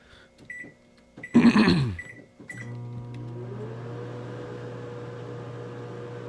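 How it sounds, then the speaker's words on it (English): A microwave oven runs loudly while melting cheese, a steady droning hum with a rising tone as it spins up, preceded by a few door and button clicks and a brief burst of other noise. "Is his microwave a jet engine?"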